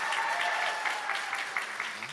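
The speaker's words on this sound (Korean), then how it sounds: "우리 성도님들 처음 뵈니까 큰 박수로 맞이해 주셨으면 좋겠습니다" A church congregation welcoming two missionaries from the Philippines bursts into dense, steady applause that fills the whole short stretch, close and loud with no voices on top.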